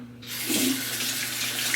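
Tap water runs steadily into a sink to rinse a face, a loud, close, continuous gush with no voices.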